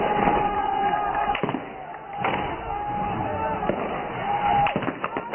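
Gunshots in recorded field footage, several sharp cracks spread irregularly through a noisy, muffled recording, with voices and commotion around them.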